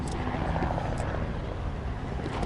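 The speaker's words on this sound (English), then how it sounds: "Ooh, I hear a helicopter behind me." A helicopter passes overhead in St Petersburg, Russia. It makes a steady, fairly loud broadband rotor rumble throughout with no break.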